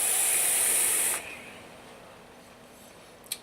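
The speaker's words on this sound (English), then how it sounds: "If I vape it with just the bottom airflow," A BTFC RDA by Augvape & VapnFagan drawn through bottom-only airflow gives a steady, airy hiss for about a second, then stops abruptly and leaves quiet room tone with one small click near the end.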